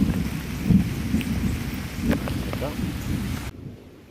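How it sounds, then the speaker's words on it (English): Heavy rain pours in a dense, steady hiss, with low thunder rumbling underneath; the downpour then drops abruptly to near silence. "Rain's picking up again."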